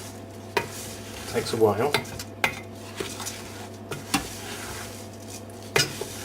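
Oats being mixed with melted margarine and syrup in a bowl for flapjack, with sticky stirring and sharp clinks of a spoon against the dish at irregular intervals, close up, and someone speaking briefly.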